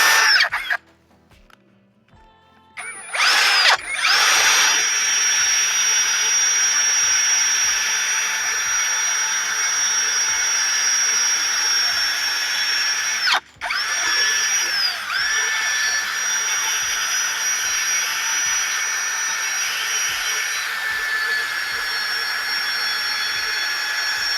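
A power drill sanding rust off an old water pump whines at a steady high pitch, loud and close, running almost continuously after a brief start with one short interruption.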